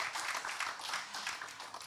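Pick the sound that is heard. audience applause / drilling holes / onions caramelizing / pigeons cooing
audience applause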